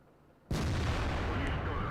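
A single tank gun shot from an IS-6 in World of Tanks, a sudden heavy boom that leaves a long, loud rumbling tail, close and powerful after a quiet moment.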